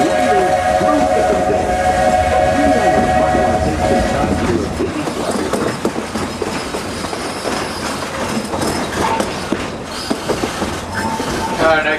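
Walt Disney World Railroad steam train at the Magic Kingdom, opening with a sustained whistle blast over loud rumbling, then steady clickety-clack wheel and chuffing noise close by, with faint voices underneath.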